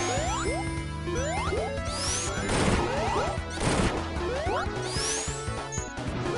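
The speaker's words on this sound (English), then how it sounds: "she can actually just whack everything with her hammer." Amy swinging her hammer in Sonic 3 and Knuckles, a string of crashing whacks, several a second, mixed with rising chirpy game effects over remixed music, with no talk.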